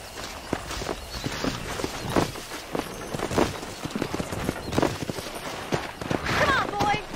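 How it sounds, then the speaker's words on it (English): In the video game Red Dead Redemption (2010), horse hooves clip-clop in a quick, uneven rhythm, close and fairly loud, over rustling ground noise and with a voice talking. "Let's see if we can't wrangle some horses."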